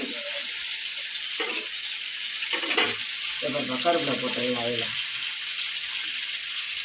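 Oil sizzles and bubbles steadily as a fish curry boils in a pan, with a person talking briefly over the constant frying hiss.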